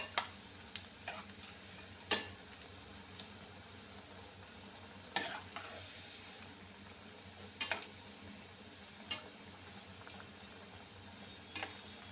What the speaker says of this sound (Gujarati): તમે જોઈ શકો છો આપણા બોલ એકદમ સરસ તળાઈ રહ્યા છે.